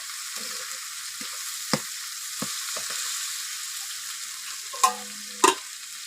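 Fried pieces in a pan give off a soft, steady hiss, broken by a few sharp clicks and utensil taps near the end.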